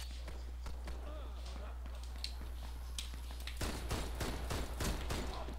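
Rapid, crisp revolver shots from a Mateba Autorevolver in the game Warface ring out in bursts, sharp and percussive, over a low constant hum with a few footsteps between.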